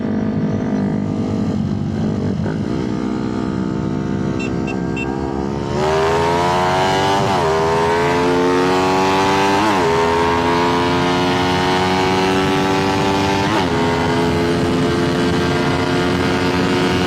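A Rusi Raider motorcycle with a 70+9 setup revs hard in a drag race, its engine climbing in pitch over and over in loud, continuous rising sweeps after a steadier opening drone.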